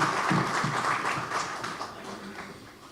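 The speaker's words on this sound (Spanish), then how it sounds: "Un fuerte aplauso." Applause from an audience at a labour code presentation event, a steady wash of many hands clapping that holds for a few seconds and slowly fades, with a faint voice underneath.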